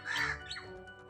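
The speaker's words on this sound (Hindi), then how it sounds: "वैसे इस वक्त तो कौवे की आवाज़ आ रही है" A single harsh bird call rings out briefly outdoors, fairly faint, like a crow's caw, followed by a short click at the end.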